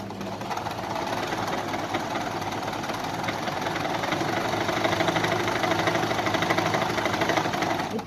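A sewing machine runs steadily on a long, loose stitch through a strip of tulle, its needle producing a continuous fast mechanical whir and rhythmic knocking, close and alone.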